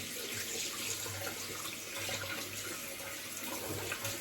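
A tap runs steadily into a sink while someone waits for the hot water, a constant close splashing hiss with faint low knocks underneath.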